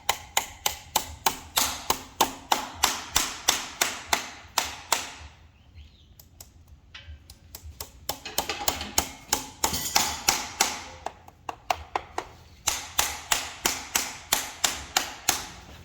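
A hammer taps repeatedly in quick, even bursts of strikes, with a short quieter pause midway before the rapid tapping resumes, close by.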